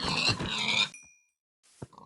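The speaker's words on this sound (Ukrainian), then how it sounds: "Вони нам заважають рохканням своїм." Pigs in the Minecraft video game give a short burst of grunting, then after a brief silence a couple of softer oinks and grunts follow, close and clear with no talk.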